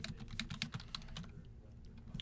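Rapid keystrokes on a computer keyboard, a quick run of clicks fairly close, tapering into a few sparse taps.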